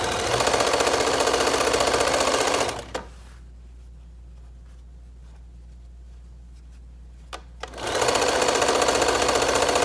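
Sewing machine stitching a fabric mask tie, running loud and steady with a fast even rhythm, stopping for a few seconds of near silence, then starting up again close by.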